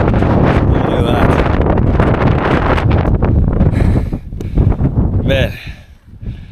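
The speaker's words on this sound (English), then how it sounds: "The wind is definitely a lot stronger up here." Strong wind buffets the microphone on the summit of Mount Taranaki, a loud continuous roar that surges and dips, with faint voices briefly breaking through near the end.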